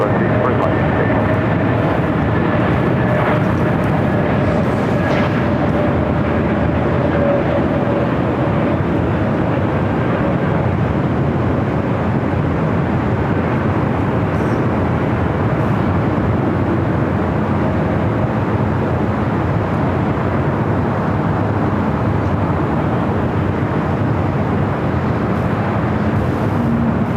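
Delta A321neo airliner on short final approach to runway 24 right at LAX, a loud continuous engine roar and rushing drone that stays steady throughout, with talk mixed in.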